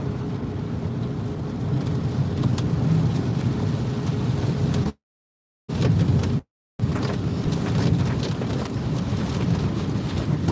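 Heavy monsoon downpour pouring steadily in a rural village, a dense continuous roar with rumbling low wind-like noise, loud and close, broken by two brief dropouts of silence.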